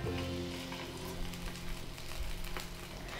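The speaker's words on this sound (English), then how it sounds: "you're going to fry it until it's golden brown" Salted fish fries in hot oil, giving a steady close crackling sizzle with small pops throughout.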